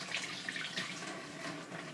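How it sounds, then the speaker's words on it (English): Water drains off a pot of soaked pinto beans, a soft continuous splashing trickle that stays fairly quiet and steady for a couple of seconds. "we're going to drain that water off"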